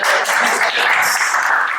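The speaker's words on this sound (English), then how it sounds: "So okay, you can clap." A conference audience at a Startup Grind event in Kigali claps for a guest speaker, a brief burst of steady, bright applause from many hands with no talking.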